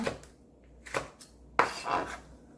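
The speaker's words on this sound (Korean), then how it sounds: "홍고추 두 개를 썰어 주세요" Two red chilies being sliced for a quick kimchi: a few separate knife cuts against a cutting board, quiet and close, with short scraping bursts between them.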